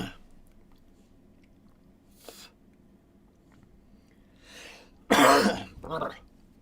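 Coughing from a cannabis smoker, a couple of short throat clears early on, then a loud, close hacking cough burst followed by a second smaller cough.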